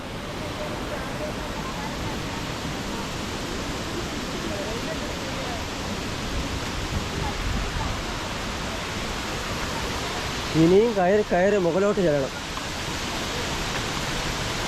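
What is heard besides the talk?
Palaruvi waterfall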